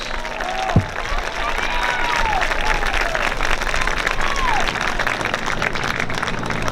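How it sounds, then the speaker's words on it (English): A large football stadium crowd applauds steadily and loudly on senior night, sustained clapping throughout with a brief thump near the start. "A round of applause for our senior team members and their families."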